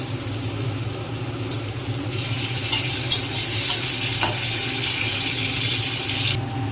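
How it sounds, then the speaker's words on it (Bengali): Hot oil sizzles and crackles steadily as chicken pieces are dropped in one by one to fry, with a brief burst of louder spattering and stirring in the middle. "এইভাবে আমি চিকেনগুলোকে এক এক করে তেলের মধ্যে ছেড়ে দেবো।"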